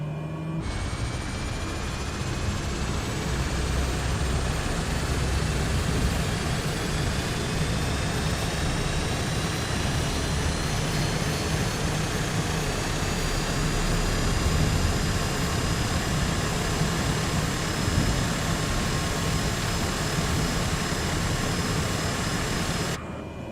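A Cessna C208EX aircraft engine in Microsoft Flight Simulator spins up with a steady roar and a rising whine that holds throughout, loud and continuous with no voices.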